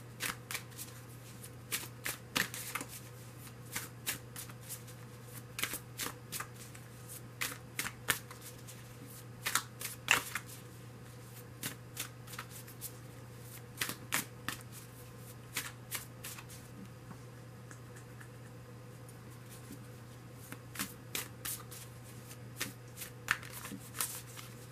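Tarot cards are shuffled repeatedly in the hands, quick riffling bursts and soft slaps at a close, quiet distance over a low steady hum, with no talk.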